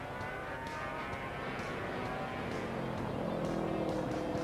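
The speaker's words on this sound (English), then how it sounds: "There you see the 27 bikes twisting and turning through the chicane." 500cc Grand Prix racing motorcycles at the 1982 Argentine GP wind through a chicane, giving a faint, distant, continuous engine whine that rises slightly toward the end.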